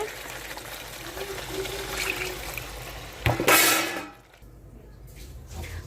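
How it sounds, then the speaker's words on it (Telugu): Water gushes into a pan of mutton curry in a brief loud burst, a second or so of splashing pouring, after quieter kitchen sounds and a faint voice. "వాటర్ వేసుకుందామండి"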